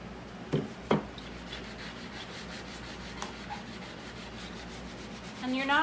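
Close, steady rubbing of a sanding pad across painted wood, smoothing out paint drips, with a few soft knocks early on and a brief voice at the end.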